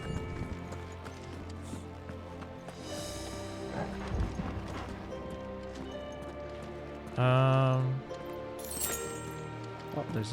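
Horses in Final Fantasy XVI neigh loudly with a prominent whinny midway, over game music and steady hoof clip-clop, while a player talks intermittently.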